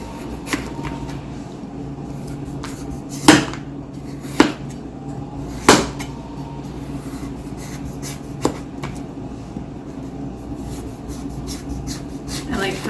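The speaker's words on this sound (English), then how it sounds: "Just going to cut straight down, peel in our squash." A knife slices straight down through a butternut squash to peel it, giving repeated rough scraping strokes and a few sharp thuds on the cutting board, close by, over a low steady room hum.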